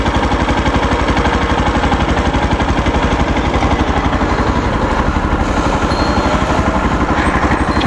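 A Yamaha FZ-X motorcycle engine runs close up with a fast, even pulsing beat, loud and steady throughout, with no voices over it.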